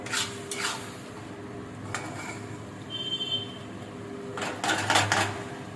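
A spice mixture for a coconut banana-flower ghonto is stirred in a pan, with intermittent scraping bursts of a utensil against the metal, loudest toward the end.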